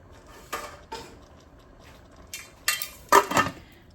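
Metal lid clattering onto a cooking pot of home-style chicken curry with sweet potato and pineapple, with several sharp clinks and scrapes, the last few louder and closer together.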